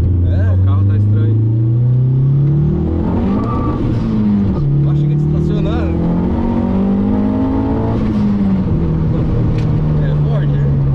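Turbocharged Ford car engine revving with gliding pitch rises and falls, loud and close from inside the car, while people talk over it.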